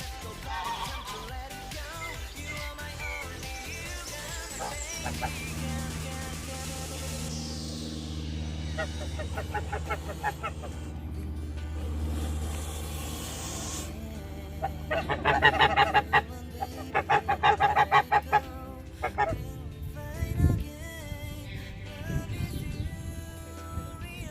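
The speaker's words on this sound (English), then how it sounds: "One of the geese making a noise on top of the ridge there." Geese honk from a distance on a ridge at Bodenham Arboretum, England, in a busy outdoor scene, with a burst of louder repeated honks toward the middle and a voice talking over the background.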